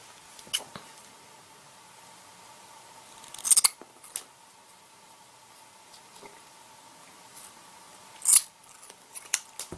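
Scissors snip off the excess cord of a woggle in two clear, close cuts several seconds apart, with small handling clicks and rustles in a quiet room.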